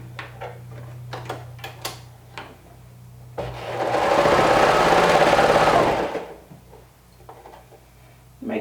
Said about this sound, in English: let's stitch around with a 1/2 inch seam allowance